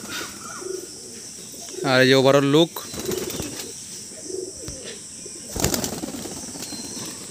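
Madrasi pigeons of the kaldum line in a loft give a short burst of throaty cooing, and a brief flutter of wings follows. Someone talks nearby, close to the microphone.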